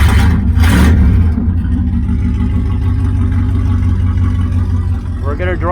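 A 1976 Camaro's engine cranks and fires up, then settles into a loud, deep, rumbling idle with a few revs, heard up close; a voice briefly speaks near the end.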